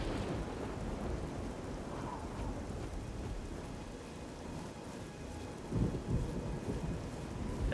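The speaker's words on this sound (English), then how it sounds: "Do we think it's still raining outside?" Rain and thunder outside form a continuous hiss of steady rainfall, with low rolling rumbles of thunder swelling and fading and a louder surge near the end.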